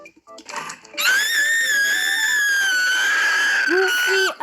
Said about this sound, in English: Goofy ass scream.